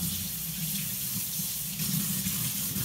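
Water runs steadily from a kitchen tap as hands are washed beneath it, a continuous close splashing hiss with no voices.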